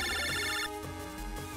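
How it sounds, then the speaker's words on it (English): In Mega Man Battle Network 3, a phone rings with a bright electronic trill that cuts off after less than a second, backed by looping game music. "Their phone's ringing."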